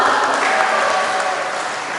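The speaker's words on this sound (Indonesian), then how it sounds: "Tepuk tangan dulu dong." Audience applause at an Indonesian Isra Miraj gathering, a steady wash of clapping that holds at a fairly even level for two seconds and eases off slightly toward the end.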